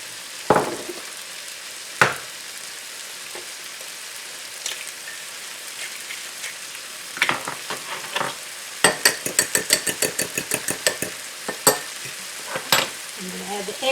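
Egg frying in a hot pan for a breakfast omelet sandwich, a soft continuous sizzle broken by sharp scrapes and a rapid run of taps from a utensil working the egg, close and clear.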